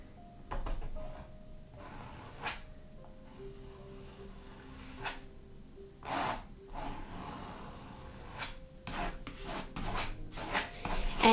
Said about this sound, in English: you can just keep scraping over those holes in the canvas to make sure it fills it in